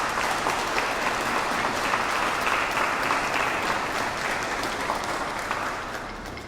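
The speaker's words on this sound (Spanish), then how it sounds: "Les damos un aplauso de agradecimiento." Steady applause from a church congregation at a Sunday Mass, a dense even patter of many hands that holds for several seconds and then begins to taper off.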